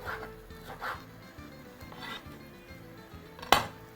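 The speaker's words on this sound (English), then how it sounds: "I'm just going to chop those into some diamond shapes" A knife cuts vegetables into diamond shapes on a board for a pea, potato and veggie soup, with soft, regular chopping taps about twice a second, close and fairly quiet, and a sharper clack near the end.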